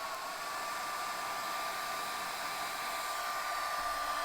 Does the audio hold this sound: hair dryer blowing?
yes